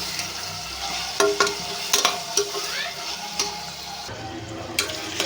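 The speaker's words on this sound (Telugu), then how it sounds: "ఉల్లిపాయలు అయితే ఫ్రై అయిపోతున్నాయండి" Onions, garlic and green chillies sizzle in hot oil for a mutton egg curry, with a steady crackle broken by several sharp scrapes and clanks of a spoon stirring the pan; no one speaks.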